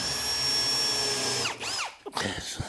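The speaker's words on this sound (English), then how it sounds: "I like to use a drill, pilot hole it" A power drill bores a pilot hole into wood during sink base cabinet assembly, its steady high motor whine running loud and close before spinning down, followed by a few brief bursts as the bit is backed out.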